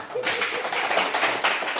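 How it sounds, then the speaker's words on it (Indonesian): An audience claps together at a public-service meeting, a dense continuous patter of hands filling the whole moment at fairly close range. "Tepuk tangan."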